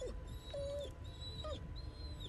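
A dog in the horror video game Blair Witch whimpers in a few thin, wavering whines, each short and high, with quiet ambient game sound beneath and no talking.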